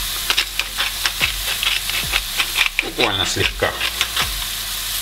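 Mushrooms sizzle steadily in a hot pan, with repeated scraping stirs over a continuous frying hiss. A voice speaks briefly over the cooking.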